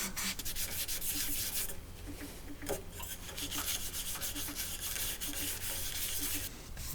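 A rag rubbing sanding paste into a wooden bowl on a lathe, a continuous, close scratchy friction with rhythmic strokes and faint ticks repeating throughout, no talking.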